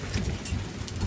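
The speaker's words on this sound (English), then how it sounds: "It's hailing outside." Hail falling outside a home backing onto farmland, a dense, steady hiss and patter of impacts filling the air with no voices.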